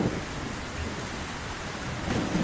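Steady rain with a low thunder rumble throughout a storm, a constant dense wash of noise without voices.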